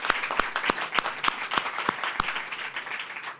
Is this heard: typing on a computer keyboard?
no